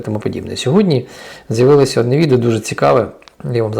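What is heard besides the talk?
None of the usual background noises is heard.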